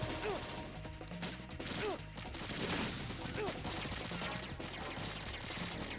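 Enemy gunfire aimed at the player in a Metal Gear game, rapid repeated shots and impacts forming a dense, cluttered barrage at moderate volume with faint clanks mixed in.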